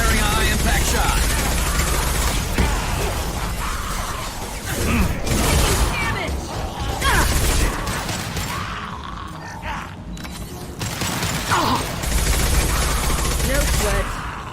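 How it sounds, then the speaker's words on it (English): High-impact shots from Mass Effect 2 combat, loud repeated blasts with metallic clanks and crashes amid dense, continuous gunfire, with a voice speaking among the chaos. "Firing a high impact shot."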